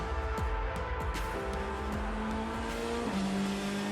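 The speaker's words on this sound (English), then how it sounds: "as Wickens warms his tires around this pace lap" Corvette race car circling on a pace lap in the IMSA GTD class, engine droning loud and steady with rising and falling pitch as it warms its tires, other cars passing nearby.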